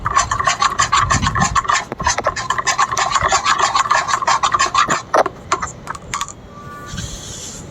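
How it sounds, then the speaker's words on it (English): Whisking eucalyptus oil into a methi seed (fenugreek) hair serum gives a rapid, steady run of close scraping and clicking that slows and breaks into scattered taps near the end. "Take 10 drops of the eucalyptus oil and whisk it completely."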